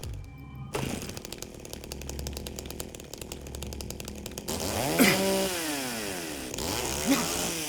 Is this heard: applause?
no